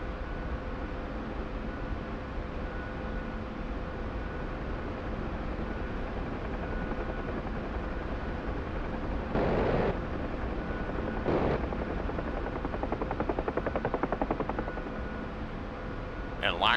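UH-1H Huey helicopter flying in DCS World, a constant loud engine and rotor drone with a few brief louder surges and a faster rhythmic chop near the end.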